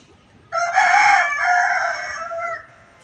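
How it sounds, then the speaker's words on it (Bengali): A rooster kept in a rooftop garden crows once, loud and close, a single long call of about two seconds that stands alone with no talk over it. "মোরগের ডাক শুনলেন"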